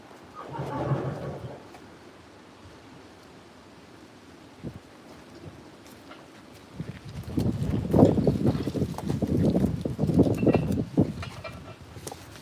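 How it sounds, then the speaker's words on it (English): Strong, gusty wind roars across an open farmyard during chores, buffeting the microphone in rumbling surges that swell louder and more turbulent in the second half. "Wind is brutal."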